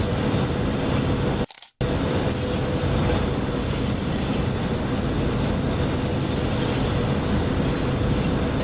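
Freight train rumbling steadily down the Cajon Pass grade in Train Sim World 3, a dense, continuous rail roar with faint clickety-clack, broken by one brief drop to silence early on, with no talking.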